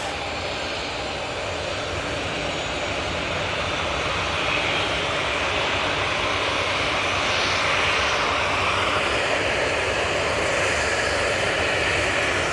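A Ryanair airliner's jet engines roar steadily at an airport, a continuous broadband whine and rumble holding at a loud, even level throughout with no voices.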